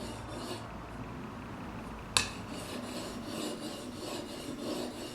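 A hand plane blade, including a cambered one, rubbed back and forth on a wet sharpening stone, a close rhythmic rasping scrape with one sharp click midway and no speech.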